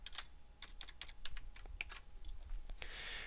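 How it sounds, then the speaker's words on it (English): Quick bursts of typing on a computer keyboard, close and crisp, with uneven keystroke rhythm and a short pause before a final flurry, no voices. "I'm going to type Sue here."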